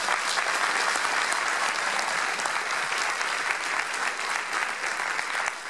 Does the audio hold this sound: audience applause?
yes